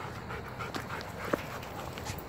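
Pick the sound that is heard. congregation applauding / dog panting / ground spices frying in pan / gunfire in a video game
dog panting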